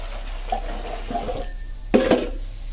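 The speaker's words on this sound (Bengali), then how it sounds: "বেগুনটা ধুয়ে নিই।" An eggplant is rinsed under running tap water, giving a close, moderate splashing wash over a low hum, with a brief louder gush and clatter near the two-second mark.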